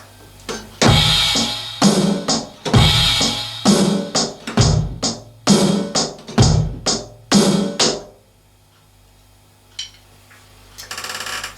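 Drum kit plays a beat, bass drum, snare and cymbal in a steady loud repeating groove for about eight seconds, then fades to faint scattered hits with no talk.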